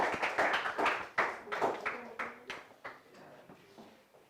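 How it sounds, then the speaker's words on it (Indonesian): An audience claps at the close of a group presentation in a teacher-training class session, a burst of fairly close hand claps that thins out into scattered, fading slaps over about four seconds. "Berikan aplaus ya."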